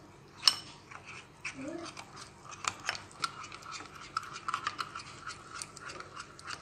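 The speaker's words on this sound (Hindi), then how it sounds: "और इसको हम अच्छे से घोल लेते हैं।" A spoon stirs potato-peel snack batter thinned with water in a bowl, giving irregular soft scraping and tapping strokes at close range.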